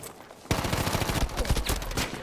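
Rapid automatic gunfire in Battlefield 5, a loud, steady burst of closely spaced shots that starts abruptly and continues without pause.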